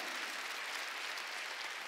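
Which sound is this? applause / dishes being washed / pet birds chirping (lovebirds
applause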